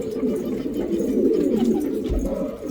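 A pigeon coos nearby, a low, continuous throaty warble.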